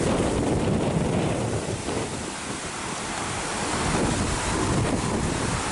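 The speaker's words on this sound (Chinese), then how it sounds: "好大风" Strong storm wind in Central Park, New York, roaring steadily and loudly across the microphone as a dense, continuous rush with no let-up and no voices.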